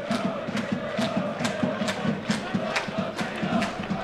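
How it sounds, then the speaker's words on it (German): Football fans in the stands at the Moselstadion during an Eintracht Trier versus TuS Koblenz match chant back and forth between sections, a dense, steady crowd roar with rhythmic accents throughout. "Dieser Wechselgesang zwischen den unterschiedlichen Zuschauerbereichen"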